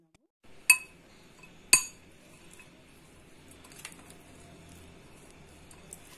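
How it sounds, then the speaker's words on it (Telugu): A spoon clinks twice sharply against a bowl while chickpea salad with coriander, mint and seeds is mixed, then quieter stirring and faint scraping follow, with a few soft taps near the end. "కొత్తిమీర పుదీనా సో ఇవన్నీ మనం ఇప్పుడు చక్కగా కలుపుకుందాం"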